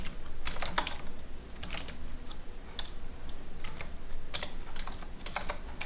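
A name is typed on a computer keyboard, a close, quiet run of irregular key clicks with short pauses between bursts.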